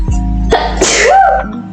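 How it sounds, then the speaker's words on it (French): A woman lets out one loud, close sneeze, with a sharp intake of breath and then an explosive burst, in a training room. "Aïe, je vais éternuer."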